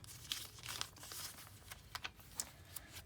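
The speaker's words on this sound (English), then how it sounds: "I'm flipping through my blank journal for you guys." Soft crinkly paper rustles and flicks repeat in quick succession, blank pages of a Hobonichi A6 journal turning one after another at close range with no voices.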